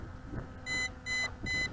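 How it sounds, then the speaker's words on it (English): An MJX B12 EIS camera drone sounds its first-phase low-voltage warning, three evenly spaced groups of clear high beeps ringing over a soft background hiss. "triple beeps intermittently indicates the first phase of low voltage return to home"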